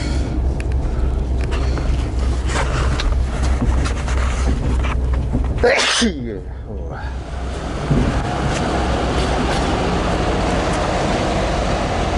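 A train at a station in the Carpathian region, its steady rumble and rolling noise continuing loud with a sharp squealing burst midway, followed by a quieter, windy-sounding stretch.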